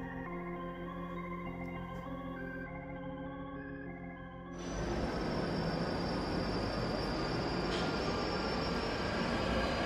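A train sound effect in a radio drama of an Agatha Christie Hercule Poirot mystery, set on a train to London. Tonal music fades out and a loud, steady rattling rumble of the moving train takes over for the rest of the clip.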